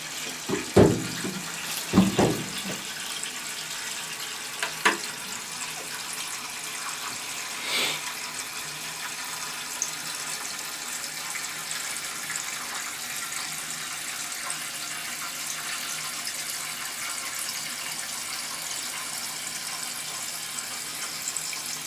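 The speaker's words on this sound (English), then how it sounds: "And this next flush is going to be 2 bunches as well." A toilet flushing with a steady, continuous rush of water running throughout, opening with a few sharp knocks and clunks, then settling into a constant hiss with no talk.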